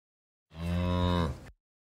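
Cattle give one long, loud moo lasting about a second, close and alone, with silence on either side.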